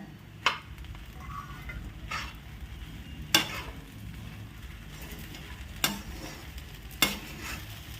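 Potato being stirred into sabudana khichdi in a pan, a low steady sizzle punctuated by four sharp scrapes and clacks of a spoon against the pan at uneven intervals.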